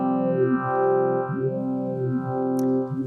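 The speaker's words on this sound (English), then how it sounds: "if we do that and increase the feed, you'll hear this really beautiful sweep that we get" A Chase Bliss Wombtone analog phaser pedal with its feedback turned up sweeps a sustained guitar chord, the swirling phase notches rising and falling in a slow, continuous, loud wave.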